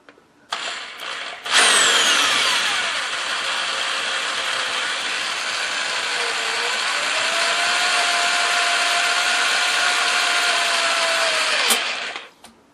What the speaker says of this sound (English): Very easy to drill out the soft brass with one of these titanium bits.